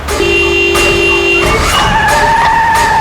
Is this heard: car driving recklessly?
yes